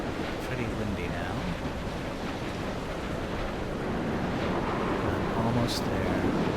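Wind gusting over a cliffside and waves washing against the shore in the video game Dear Esther, a steady, full rushing roar with low surf rumble throughout.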